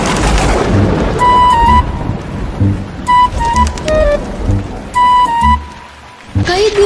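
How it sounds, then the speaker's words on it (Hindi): Heavy rain pours in a dense continuous wash with rumbles of thunder, while bright tonal calls and sound effects rise repeatedly over the storm. "कई दिनों से लगातार बारिश हो रही थी।"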